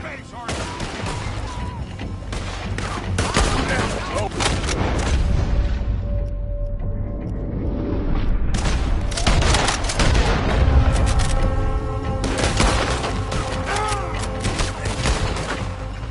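Continuous gunfire in Red Dead Redemption 2 during a shootout, dense volleys of rifle and pistol shots cracking and booming for the whole stretch, close and loud, with voices shouting over the fire.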